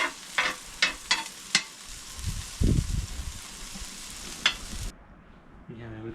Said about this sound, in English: We're preparing ramen on the barbecue.